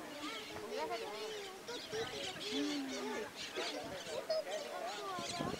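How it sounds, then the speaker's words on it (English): Parrots nesting in burrows in the crater walls of a volcano in Nicaragua squawk and chatter repeatedly at a moderate distance, with wind and people talking nearby over the calls. "There's actually parrots nesting in the walls of the crater."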